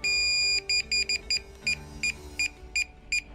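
A sustained electronic tone from a quadcopter drone's remote controller, followed by a series of short, evenly spaced beeps, clear and close.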